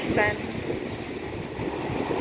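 Steady, loud wind rumbling against the microphone with the broad wash of surf beneath, constant throughout, and a faint voice briefly at the start.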